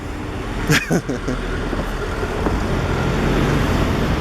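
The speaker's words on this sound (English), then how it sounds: "And another car coming this way." Car passing on a busy Moscow street amid constant traffic roar, with a short sharp squeal and clatter early on, then a steady close engine and tyre rush.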